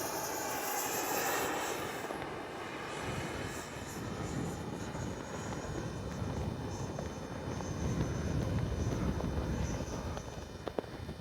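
Arrows RC F-15 64mm EDF jet making a gear-down pass, a continuous loud ducted-fan whine and rush that swells slightly as it passes, steady throughout with broad wind noise.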